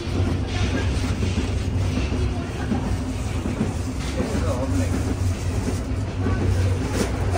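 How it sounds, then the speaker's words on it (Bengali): Steady low rumble of the Rangpur Express intercity train rolling along rails, constant and fairly loud, with faint voices murmuring underneath. "আমরা রংপুর অভিমুখী আন্তনগর রংপুর এক্সপ্রেস ট্রেনে রয়েছি"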